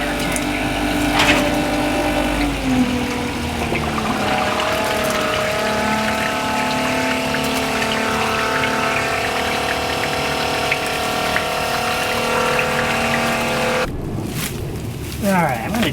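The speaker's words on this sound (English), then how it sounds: "Now I'm going to drain the gray water tank." A Maxzone macerator pump empties an RV gray water tank with a steady, close motor whine and rushing liquid, running continuously before cutting off near the end.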